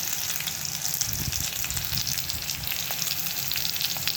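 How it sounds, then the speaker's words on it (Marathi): Green chillies sizzle and fry in a little oil with cumin, garlic and turmeric, a steady close crackling hiss that runs without pause. "मिरच्या छान एकदम असं हे झालं पाहिजे, भाजले पाहिजे तेलामध्ये"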